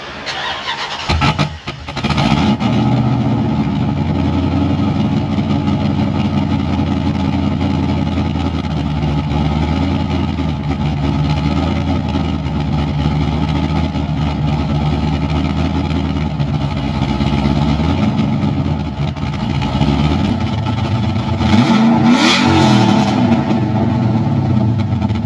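A new 426 Hemi V8 with an electronically valved exhaust system cranks and fires, then settles into a loud, steady, lumpy idle heard close up from behind the car, with a revving surge near the end.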